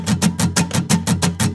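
Fast, steady guitar strumming, about eight even strokes in under two seconds, each hit at the same loudness with no accents.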